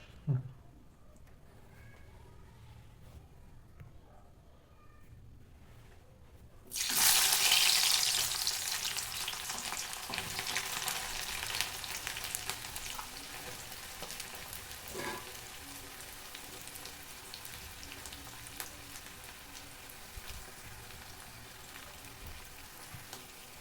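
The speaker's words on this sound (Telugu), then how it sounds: "ముందు కట్ చేసి పెట్టుకున్న ఆనియన్స్ పచ్చిమిర్చి వేసుకున్నాం ఆయిల్ వేడైంది" Chopped onions and green chillies dropped into hot oil for a chicken curry, the sizzle erupting suddenly after quiet, then hissing steadily and slowly settling, with a faint clink partway through and no talk.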